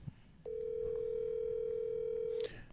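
A phone rings with an incoming call, sounding as one sustained electronic tone lasting about two seconds before cutting off, clear over a faint background.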